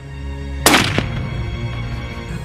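A single loud rifle shot fired during a hunt cracks out sharply, followed by a short echoing rumble that rolls away over a steady low background.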